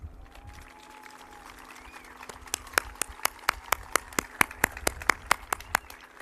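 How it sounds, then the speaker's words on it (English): About a dozen sharp hand claps at a steady, even pace at an adult education commencement ceremony, fairly close, over a faint hum and a drifting tone. "So please honor them with a round of applause."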